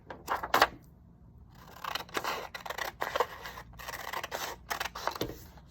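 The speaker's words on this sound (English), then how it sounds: "you're going to cut it out of your paper so that you have your 8x8 square" Scissors snip through paper to cut out an 8x8 inch square, a close run of crisp irregular cuts with brief pauses, no talking.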